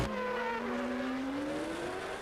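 A 1993 Formula One race car's V8 engine screams at speed, its high pitch climbing steadily as revs rise past 13,000, loud and continuous.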